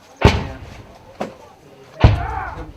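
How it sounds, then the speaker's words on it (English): Three sharp, heavy booms spaced about a second apart, the first and last loudest, each with a short rumbling tail, sounding like distant explosions: 60mm mortar fire during a Marine firefight with Taliban fighters. "that sounded like Mortar Fire to you, didn't it?"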